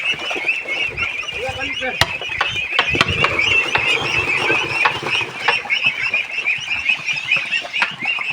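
Ducks call repeatedly as they are led into water for the first time, a busy overlapping quacking chorus close by, with occasional thumps and splashes and people talking nearby.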